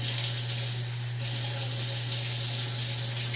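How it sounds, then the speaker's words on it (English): Tap water runs into a cup as a continuous soft splashing hiss over a low steady hum, unbroken for a few seconds with no talking. "So we're going to put a cup of water in this."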